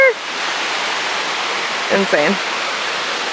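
A secret waterfall in Bohol, Philippines roars as a steady, loud broadband rush of falling water, with a brief voice speaking over it partway through.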